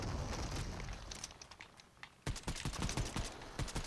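Rapid bursts of gunfire in the Fortnite video game, a dense rattle of shots after a quieter stretch, loud and close with no talking.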